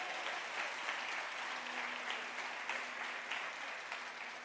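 A church congregation claps steadily and fairly loudly throughout, a dense even wash of applause with no talking.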